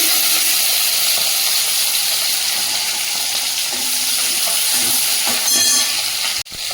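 Chopped onions frying in oil in a wok for crab curry, a loud, dense hiss and crackle that holds steady close up, with a brief clatter near the end and no talking.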